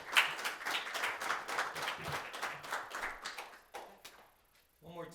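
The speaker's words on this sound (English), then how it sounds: "One more time, let's give James a round of applause." Audience applause for a presenter named James at the close of a talk, a spread of hand claps at moderate level that thins out and fades near the end, with a voice beginning over the tail.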